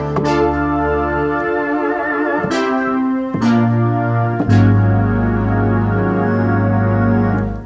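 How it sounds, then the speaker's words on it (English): Big, bright brassy synthesizer chords from a Roland JUPITER-50, played in sustained blocks, changing every second or so, loud and full with a buzzy edge. "My upper part is a huge, splatty synth brass."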